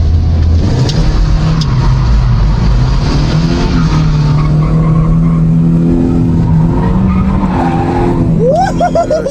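BMW E36 fitted with an angle kit drives hard with loud, sustained engine roar and tire squeal as the front end skids, the squeal rising in pitch near the end, with no talking over it.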